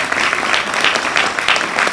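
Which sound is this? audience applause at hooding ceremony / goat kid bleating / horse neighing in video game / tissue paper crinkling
audience applause at hooding ceremony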